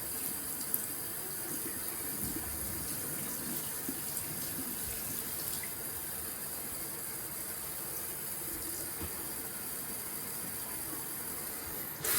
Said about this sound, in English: So I'm going to add the same amount of water as I have pigment there.